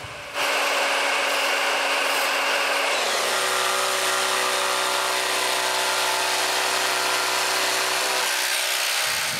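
A power saw cuts a notch into a wooden beam for a carport, giving a continuous loud rasping buzz that shifts pitch as the blade bites and runs steadily for several seconds before stopping.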